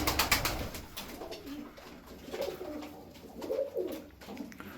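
Turkish performing pigeons coo softly in low, rolling calls, with rustling and fluttering nearby and a brief clatter at the start.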